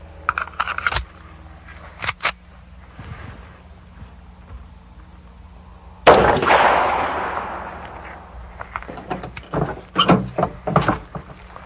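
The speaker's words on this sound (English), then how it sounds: "And now we're going to try the 45. This is a 230 grain full metal jacket bullet first." A .45 pistol fires a 230 grain full metal jacket bullet into a door: one loud, sharp report with a ringing decay, then scattered clatter and knocks, after a few faint taps.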